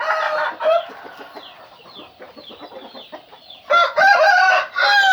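A rooster crows loudly several times on a fighting-cock farm, with clucking chickens and other fowl calling softly in between.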